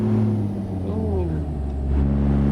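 A Kenworth W900 truck engine in American Truck Simulator revs after a missed gear, a loud low droning rumble that dips and climbs in pitch, with a voice talking over it.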